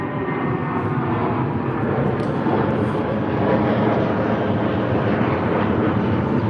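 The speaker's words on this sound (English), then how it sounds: "British Airways off to Vienna on the A319," A British Airways Airbus A319 jet departing Heathrow for Vienna roars steadily at a distance, a continuous broadband engine rumble that stays even in loudness throughout.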